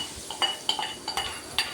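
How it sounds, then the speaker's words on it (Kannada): Curry being stirred in a pot after tempering, with a spoon scraping and clinking against the metal in several short, light strokes, close by and fairly quiet, no talking. "ಈಗ ಚೆನ್ನಾಗಿ ಒಂದು ಸತಿ ಮಿಕ್ಸ್ ಮಾಡ್ತೀನಿ."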